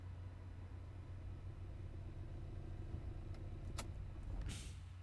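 A car in the game Remember the Flowers rolls to a stop, its engine rumbling low and steady throughout, with a brief hiss and a swell of road noise near the end as it slows.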